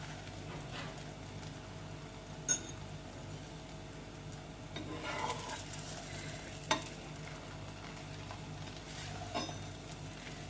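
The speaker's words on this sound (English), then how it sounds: "I am going to apply a little of oil on the top surface as well. As I'm going to flip it around, the other side also will get cooked" An aloo paratha cooks in oil on a pan with a quiet, steady sizzle, broken by a few soft scraping stirs and isolated light clicks from the flipping.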